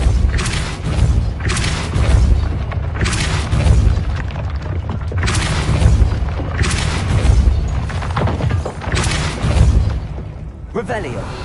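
Repeated Expulso spell blasts in Hogwarts Legacy, loud booming explosions bursting roughly every second or two with rumbling tails, forming a continuous barrage of heavy impacts.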